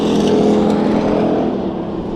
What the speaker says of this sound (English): We've got 3 cars duking it out up front.